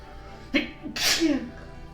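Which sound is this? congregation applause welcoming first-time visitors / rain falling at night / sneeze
sneeze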